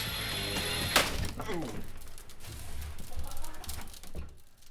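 Tempered glass crackling and crinkling as it is drilled, with a sharp crack followed by scattered ticking and fracturing sounds under a background hum.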